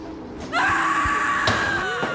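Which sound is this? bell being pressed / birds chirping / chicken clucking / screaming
screaming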